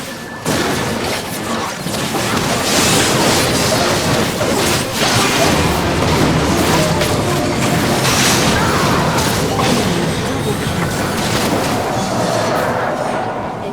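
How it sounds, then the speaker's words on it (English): A turret is destroyed in League of Legends, with crashing booms and a thick layer of explosive impacts and mechanical clatter filling the scene and holding loud and steady. "Your turret has been destroyed."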